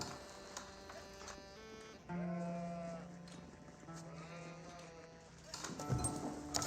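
Sheep in the real-time strategy game Age of Empires 4 bleat in short, tonal calls over a busy layer of game sounds, with one sustained bleat in the middle of the clip.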